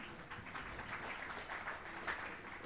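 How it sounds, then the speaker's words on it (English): A seated audience at a talk on family relationships claps steadily and faintly, a soft, continuous patter of many hands without strong peaks. "Give a round of applause to all of them."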